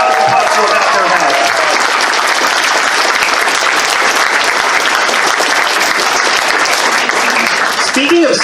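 Loud, dense applause from a convention crowd at a furry convention's closing ceremony, sustained and steady, with brief voices at the start and end.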